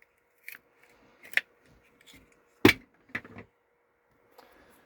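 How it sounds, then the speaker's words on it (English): A hose for a 12-volt diesel heater being trimmed with a cutting tool, a handful of short sharp snips and clicks spaced irregularly, close and crisp against a quiet background. "I'm gonna cut off 1/8 of an inch."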